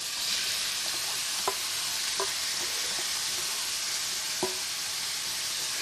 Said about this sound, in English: I've just heated about 3 tablespoons of oil into a frying pan, and first of all we're going to add the onions.